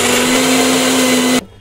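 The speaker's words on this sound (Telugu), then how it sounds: "చట్నీకి సరిపడా కాస్తంత వాటర్ని కూడా యాడ్ చేసుకొని గ్రైండ్ చేసుకోండి" A mixer grinder whirs steadily as it blends red chutney with added water, a loud continuous motor drone with a strong steady hum that cuts off abruptly near the end, leaving quiet room tone.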